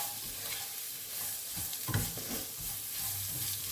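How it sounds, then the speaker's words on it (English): Onions with a pinch of pink Himalayan salt fry in a pan while a utensil stirs them, a close steady sizzle broken by a few scraping strokes of the spoon, no voices. "Now we stir the onions till the onions turn a golden brown color."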